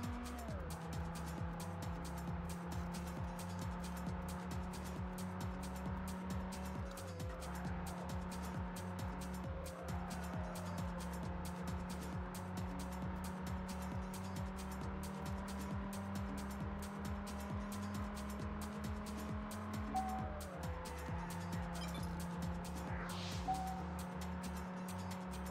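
A car's racing engine in the video game Test Drive Unlimited drones steadily at high revs with occasional gear shifts and pitch drops, continuous and close, with faint talk now and then.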